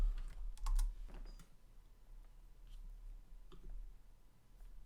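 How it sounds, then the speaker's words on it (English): Soft, quick clicks of keys tapped on a Mac computer keyboard, a short burst of typing nearby, then a few scattered keystrokes in a quiet room. "So I'm typing in my password."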